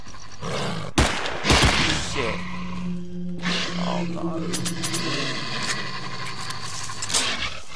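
Gunfire in the video game STALKER Clear Sky: a few sharp shots ring out early, mixed with loud roaring, scraping game noise and lingering tones, with a voice speaking at points.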